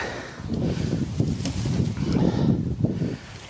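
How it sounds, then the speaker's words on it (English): Strong wind on a kayak duck hunt buffets the microphone with a continuous low roar and rustling, loud and close, with no voices. "And it's really windy."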